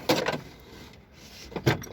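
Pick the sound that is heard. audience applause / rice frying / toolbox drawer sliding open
toolbox drawer sliding open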